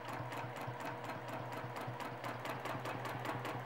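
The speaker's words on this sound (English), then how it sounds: "we're going to just stitch across and up a stitch until we get to the next block" A sewing machine stitches fabric during free motion quilting, its needle pounding in a fast, even mechanical rhythm with a steady motor hum underneath, close by and alone.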